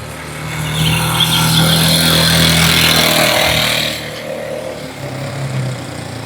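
A 2009 or 2007 Yamaha Jupiter Z motorcycle engine runs nearby with a steady drone for about four seconds, then eases off to a quieter idle.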